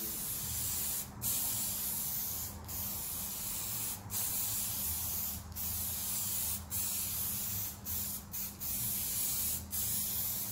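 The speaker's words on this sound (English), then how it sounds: "I'm just doing a drop coat to tack it up, I'm not trying to lay loads of paint on." Spray gun laying a light drop coat of paint on a Ferrari 308 GTS during a paint restoration, a steady airy hiss broken by several short pauses over a low continuous compressor hum, close and loud with no talking.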